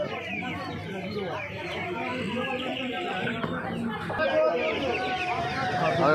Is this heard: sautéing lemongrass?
no